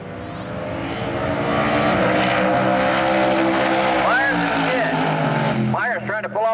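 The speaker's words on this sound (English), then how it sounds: "Pretty good drag racing up here." Drag racing cars at Firebird Raceway thunder past as a loud, sustained engine roar with a rising and falling pitch, while an announcer speaks over the noise.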